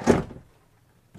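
A drawer in a 2021 Newmar New Aire 3543 motorhome bedroom slides with a single short, close thump at the start, then quiet, and a faint second knock at the end.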